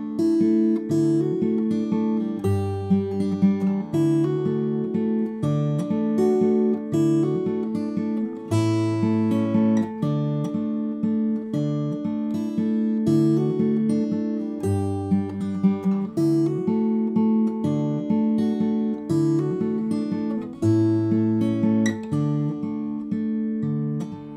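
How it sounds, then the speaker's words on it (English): Fingerstyle acoustic guitar plays a flowing melody over bass notes in a lilting 3/4 rhythm, steady and clear with no voices. "I want you to do a instrumental solo with your acoustic guitar"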